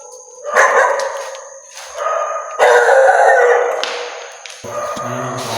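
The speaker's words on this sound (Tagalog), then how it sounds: "May aso pala dito, no?" Several dogs bark, yip and howl inside an abandoned school in Cavite, loud and close, overlapping cries coming in waves over a few seconds.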